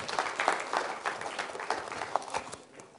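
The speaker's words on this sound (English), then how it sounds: "Give the boys a little round of applause for coming down." Audience applause at a science demonstration, a short spell of scattered clapping from a crowd, moderately loud and fading toward the end.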